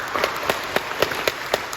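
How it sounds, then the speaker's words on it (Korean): A church congregation claps in a quick, even rhythm, sharp distinct hand claps repeating steadily and loudly. "박수로 격려해 주시죠."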